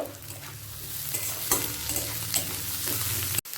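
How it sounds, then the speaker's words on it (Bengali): Chopped garlic, ginger and chili frying in a pan for an egg tadka, a steady close sizzle with stirring scrapes throughout and a brief break near the end. "রসুন কুচি আর আদা কুচি লঙ্কা কুচি তিনটে কুচনো একসাথে দিয়ে আরও 30 সেকেন্ড ভেজে নেব"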